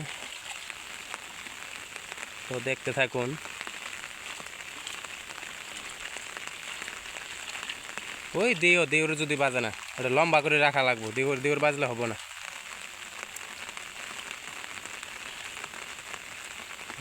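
Steady rain falls throughout during banana-leaf fishing on a rainy day, a constant hiss beneath intermittent speech.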